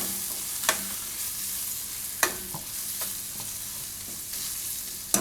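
A spoon stirs Maggi masala into a broccoli and cashew curry in a pan over low gas, giving a soft, steady sizzle broken by a few sharp scrapes and taps against the pan.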